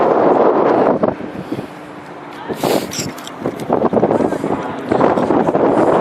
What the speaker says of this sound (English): it's so windy that like wind is blowing the tripod around